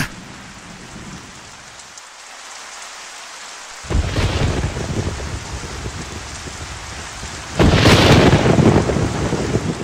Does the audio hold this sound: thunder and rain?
yes